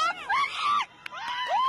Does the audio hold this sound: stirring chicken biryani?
no